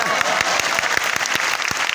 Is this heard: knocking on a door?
no